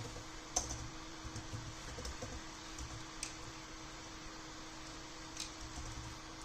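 Quiet, light typing of code on a computer keyboard, with soft scattered key clicks and a few slightly sharper taps over a low steady background hum.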